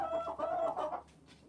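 Pet backyard chickens cluck in a close, rapid series of short calls that fade out toward the end.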